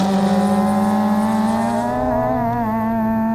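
An Abarth 595 Pista or Fiat Seicento Rallye engine revs hard and close, a strong steady drone rising slightly in pitch over a few seconds, loud and alone without talk.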